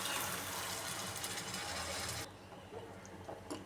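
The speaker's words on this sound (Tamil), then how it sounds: "பெரிய கிளாஸ் அளவுக்கு ஒரு 3 கிளாஸ் தண்ணியை நம்ம இதில் சேர்க்குறோங்க." Water pours steadily from a glass into a pot of dried fish curry, a broad rushing splash that runs loud for about two seconds, then stops abruptly, leaving faint clinks and quiet room sound.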